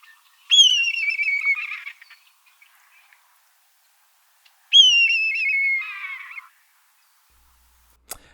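A recorded call of a raptor, a bird of prey: two separate high, clear descending whistled screams a few seconds apart, each trailing into a rougher tail, with silence between them.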